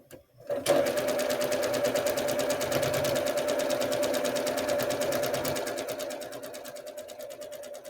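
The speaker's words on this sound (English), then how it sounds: "I will hold while I sew down the edge" A sewing machine stitches down the edge of a quilt block, a loud steady rapid whirring run close by that slows and softens near the end.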